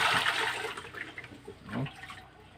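Plain tap water runs while dishes are rinsed, a steady rushing splash that is strongest at the start and then eases into a softer, uneven trickle and spatter.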